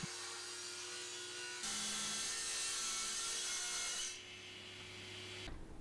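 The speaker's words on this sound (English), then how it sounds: "I've got the fence set to 4 centimetres and I'm going to rip down 4 strips." Oak ripped into strips on a saw with the fence set at 4 centimetres, a close steady whine that rises in loudness as the blade cuts, then drops back to the idling saw before stopping.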